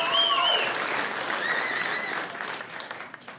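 Audience applause fills the room in a dense, sustained wash of clapping that gradually thins out toward the end.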